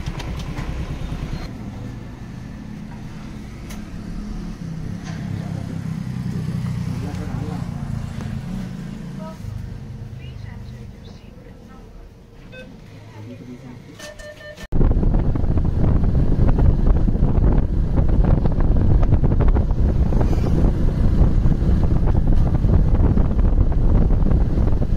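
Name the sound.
car being driven on the road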